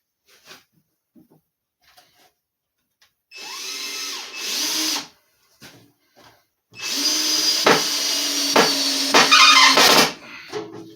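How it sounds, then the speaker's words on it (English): A power drill driving screws while building garage shelves, one short whirring burst followed by a longer run that bogs down as the screw seats, with quiet handling clicks in between. "I'm going to put these other two screws back in."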